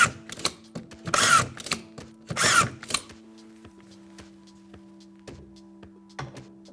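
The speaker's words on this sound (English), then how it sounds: "the Festool DURADRIVE is a drywall screwdriver with a difference and packed full of innovation" Festool DURADRIVE DWC 18 cordless drywall screwdriver driving screws: two short, loud motor whirs about a second apart, with clicks and a steady low hum between, close and clear with no talk.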